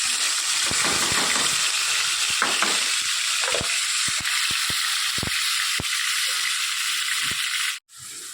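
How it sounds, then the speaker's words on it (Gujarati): Onion, tomato, garlic and green chilies fry in hot oil, giving a constant loud sizzle with scattered crackles and spatters that cuts out abruptly near the end, then resumes. "તેલ મૂક્યું છે. આના અંદર ડુંગળી, ટામેટાં, લસણ અને લીલા મરચાં."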